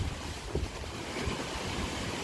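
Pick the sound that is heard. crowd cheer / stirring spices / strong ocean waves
strong ocean waves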